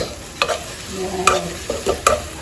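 A spoon stirs a boiled egg dish in a frying pan, giving a handful of close scraping strokes over a low background sizzle with no talking.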